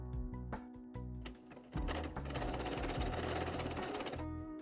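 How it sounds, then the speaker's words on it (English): A sewing machine runs a zigzag stitch joining the overlapped ends of elastic, starting with a few short bursts of stitching, then settling into a steady, rapid mechanical chatter for several seconds before stopping. "you can sew the ends together of the elastic with a zigzag stitch."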